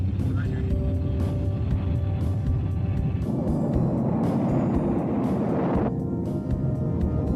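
F-84 swept-wing Thunderjets of the Thunderbirds team roll for takeoff, a loud, steady jet roar with a rising whine that swells and then shifts, while radio-style voices talk over it.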